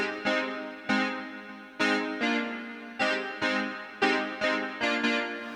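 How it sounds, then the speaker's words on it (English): A JX8B synthesizer piano patch plays solo: a sequence of bright struck chords, each with a crisp attack and gradual decay, repeating in a syncopated rhythm, close and clean. "So first I have a JX8B piano sound."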